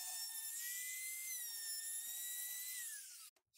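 A high-pitched power tool rounding over the edges of a wooden end-table top whines steadily for about three seconds, its pitch wavering slightly, close and loud, then cuts off.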